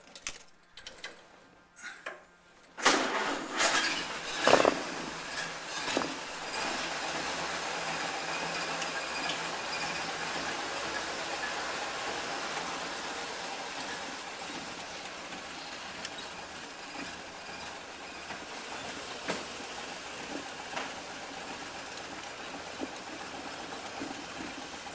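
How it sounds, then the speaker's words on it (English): An old Ford Model A car engine revs up with a loud burst, then runs steadily while driving, a rattling mechanical drone with occasional clunks. "You probably won't be able to hear me, but you can hear the engine."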